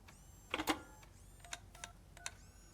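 A telephone being dialed in the RoboCop Rogue City video game: a quiet run of short electronic beeps and tones, a cluster near the start followed by several spaced single tones.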